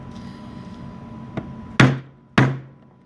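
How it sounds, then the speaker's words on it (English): Two sharp, solid knocks of a rubber mallet driving PVC pipe into a connector fitting while a small dog wheelchair frame is assembled, preceded by a lighter tap, close up over a faint steady hum. "We use a rubber mallet to make sure that the PVC pipe is all the way into the connector fitting that it's going into."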